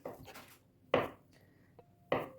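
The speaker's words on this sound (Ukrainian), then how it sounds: "Ковбаску нарізаємо." A kitchen knife cuts through sausage into strips on a wooden board, giving three sharp, separate chopping knocks with quiet pauses between them, close and fairly soft.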